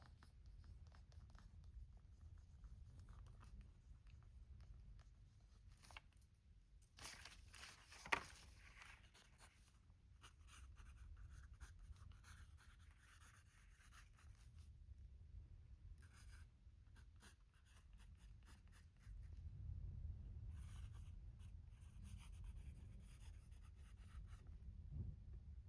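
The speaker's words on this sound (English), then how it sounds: "Let me write spine on here." A pen writes on a paper dust jacket for a handmade journal, a few soft scratchy strokes near the microphone over a quiet room hum, with one sharp tap partway through.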